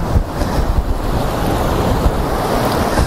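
Rough winter sea waves churn and crash nearby at Katsiveli beach, buffeted by heavy wind roaring across the microphone in a constant, loud rumble.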